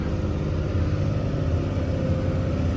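A loaded truck engine labours up a ghat road in low gear, making a steady, heavy low rumble that stays loud and even throughout, with no voices.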